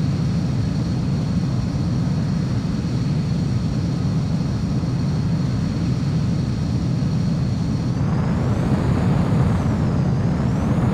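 An X-02 Wyvern jet comes in to land in the Ace Combat 04 flight game, a steady loud roar of engine rumble and whine that shifts in pitch near the end.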